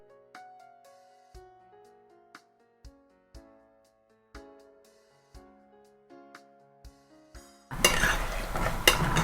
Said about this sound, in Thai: แล้ค่อยเปิดหม้อแล้วเราก็คอยมาเกลี่ยเขา